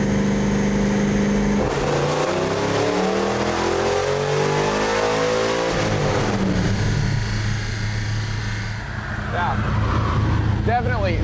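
High-horsepower hot rod, around 745 horsepower, revving hard on dyno rollers, its loud engine note climbing and falling through sweeping pitch changes before settling into a rough idle, with voices talking over it.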